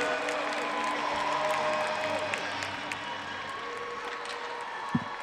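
Crowd at a girls' NHIAA Division 1 high school hockey championship game in an ice arena gives a broad, distant wash of cheering and scattered clapping, fairly faint, with a sharp knock near the end.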